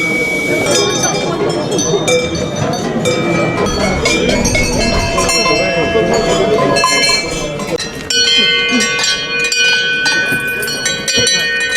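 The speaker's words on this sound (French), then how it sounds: "Pourquoi essayez-vous les cloches? Pour voir le son qu'elles ont." Cowbells clang and jangle loudly at a bell and sonnailles fair in Cheylade, many metal bells shaken continuously with overlapping ringing tones, close and dense, with a brief pause before a fresh burst of clanging near the end.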